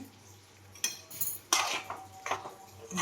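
Ground roasted coconut masala goes into a pan of crab curry, heard as a few sharp metallic clinks and scrapes of a spoon against the pan, with short wet stirring sounds in between, close and fairly quiet.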